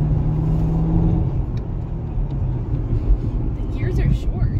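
A 2010 Chevrolet Camaro SS V8 rumbles deep and loud as it pulls away, the engine note rising and shifting under people talking inside the car.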